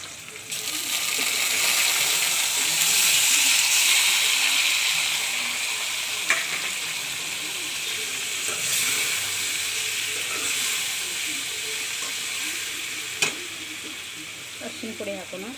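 Boiled citron pieces go into hot oil with frying garlic for a pickle, setting off a loud, steady sizzle that continues throughout, with a few faint clinks from stirring.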